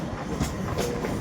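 A Medinipur–Howrah local train runs along the line in eastern India, its steady rolling rumble carrying brief rhythmic wheel clacks, heard close and continuous with no voices.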